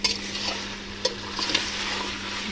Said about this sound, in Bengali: এখন সুন্দর করে মাছগুলো নেড়ে চেড়ে রান্না করে নিচ্ছি